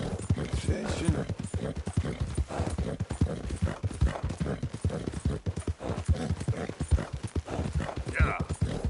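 Horse hooves clip-clopping at a steady rhythmic walk in Red Dead Redemption 2, close and distinct, with a brief whinny near the end and a voice talking over the steps.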